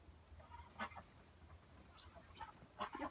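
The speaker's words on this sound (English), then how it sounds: "I hear quacking." Farm ducks quacking in a small group; faint, scattered honking quacks in short bursts over a quiet background, with no talk.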